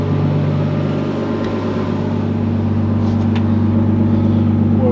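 A car engine idles steadily while warming up toward operating temperature after repair work, a constant low droning hum with no revving.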